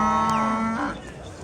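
A single cow gives a loud, close, drawn-out moo at a snowy livestock bazaar, the call dropping in pitch before fading into background noise.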